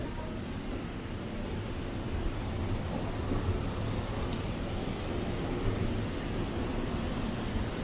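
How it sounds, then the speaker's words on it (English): Steady rain with rolling thunder pours down in Cebu City, Philippines, forming a dense, continuous wash of noise with low rumbles underneath and no voices. "It's raining na."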